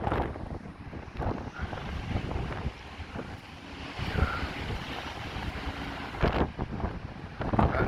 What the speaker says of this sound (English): the wind's going to be bad, obviously